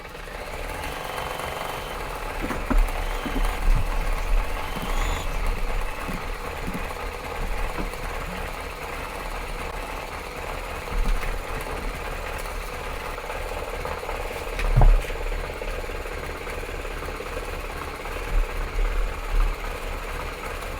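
Embroidery machine stitching a design in metallic thread: a steady, loud mechanical whir and rapid needle chatter running continuously, close up, with occasional slightly louder knocks and no talking.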